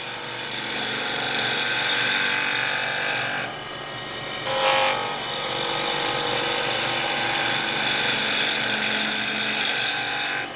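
A skew chisel cuts small-diameter wood spinning on a lathe at raised speed, giving a loud, steady, rushing scrape. Two brief dips break it where the tool lifts off the work, then the cut resumes. No one talks.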